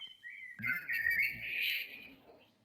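A blackbird sings a clear phrase of fluting whistles and warbles that runs for about two seconds, close and prominent after a short opening note.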